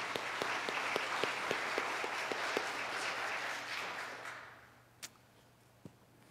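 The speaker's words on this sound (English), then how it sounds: "I think they deserve another round of applause." A church congregation at a traditional Fourth Sunday of Advent worship service claps steadily for several seconds, then the applause fades away, leaving a few isolated claps in a quiet room.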